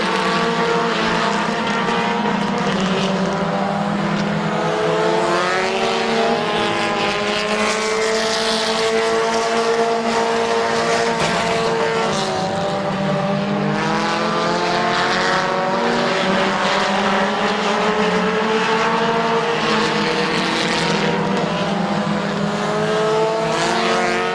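Race cars roar around the oval at Midvale Speedway, engines layered in a dense, continuous drone with pitches rising and falling as cars pass, loud and unbroken throughout.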